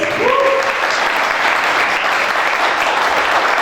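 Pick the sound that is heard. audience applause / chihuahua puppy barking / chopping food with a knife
audience applause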